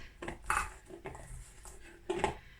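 Set chocolate-coated hazelnuts being broken apart in a bowl give a few hard clinks and scrapes, three or four distinct knocks spread across a couple of seconds, close and fairly quiet.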